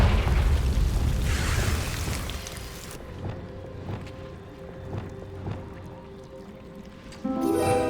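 Confringo fire spell cast in Hogwarts Legacy, a loud roaring explosive burst that fills the first few seconds and then cuts off, leaving a quieter game ambience with soft thuds and a fresh swell near the end.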